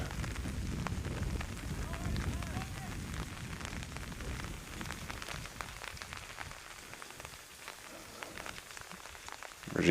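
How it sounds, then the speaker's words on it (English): Steady rain patters across an outdoor soccer pitch during a live match, a soft continuous hiss of drops on surfaces with faint crowd and field noise mixed in. "The rain is letting up a little bit."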